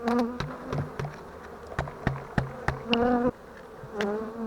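Bees hum in a steady, close buzz around hive frames, with louder individual insects droning past now and then and small knocks mixed in.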